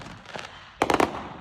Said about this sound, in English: I'm a little baby when it comes to fireworks